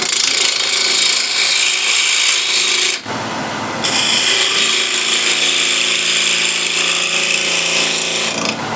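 A spindle gouge cuts a wood blank on a lathe with a loud, steady broadband rasping scrape, interrupted briefly by a short change in tone before the cutting resumes.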